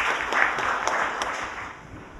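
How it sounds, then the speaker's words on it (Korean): An audience at a Korean public forum on redressing past injustices claps steadily for an incoming presenter, a continuous wash of applause at moderate level throughout. "큰 박수 좀 부탁드리겠습니다"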